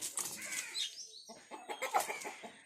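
A hen clucks in short, rapid bursts close by, with a brief rustle that could be wings in between.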